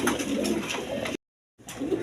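A male pigeon, a Masaldam breed kept for sale, gives a low cooing at close range. The cooing breaks off into a short silence and then starts again.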